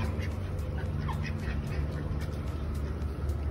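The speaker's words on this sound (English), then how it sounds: "They're ducks," Hungry ducks quacking and squawking close by, several calls overlapping in a short burst over a noisy outdoor background.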